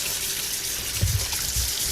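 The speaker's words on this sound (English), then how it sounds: "rinse the protein until the water becomes clear" Cold tap water runs steadily while protein is rinsed in it, with a soft splashing bump in the middle as the food is moved under the stream. Nobody speaks.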